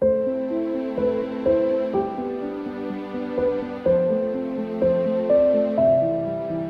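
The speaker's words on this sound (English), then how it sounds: "we're gonna replace the background from piano to strings. This is how it sounds." A simple piano piece with a sustained string accompaniment in place of the piano background, chords shifting in a steady, even rhythm with a rising melody on top, played alone at moderate loudness.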